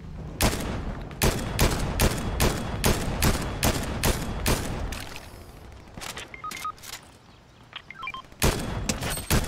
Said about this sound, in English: Oh, they're shooting at my guys.